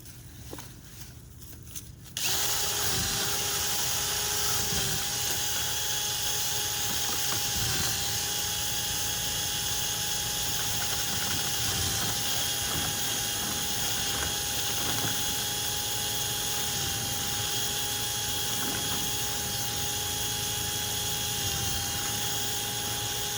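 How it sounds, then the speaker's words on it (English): Clothes dryer running steadily while lint is agitated out of its metal vent, a loud constant whirring drone that starts abruptly after a brief quiet moment and continues unbroken. "right now I have the dryer running, so that way as I agitate the sides, the dryer's pushing that lint out"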